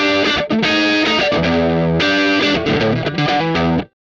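Electric guitar played on its front pickup through a 1959 SLP preset on a Valeton GP-5 multi-effects unit with reverb: loud, distorted chords and sustained notes ringing in sequence, then cutting off to silence near the end.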